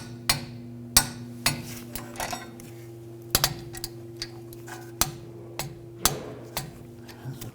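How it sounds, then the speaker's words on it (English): Torque wrench tightening the rear brake caliper bolts to 22 foot-pounds on a 2007-2013 BMW 328i, a sequence of sharp metallic clicks spaced roughly every second, close and distinct over a steady low hum. "Now we'll torque these to 22 foot-pounds."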